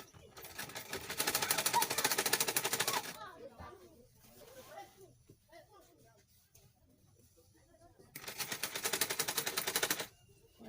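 A sewing machine stitches the seams of a pinafore flare gown in two fast, rattling bursts of a couple of seconds each, separated by a quiet gap of small handling noises and soft talk.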